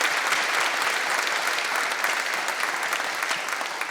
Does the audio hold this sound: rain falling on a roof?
no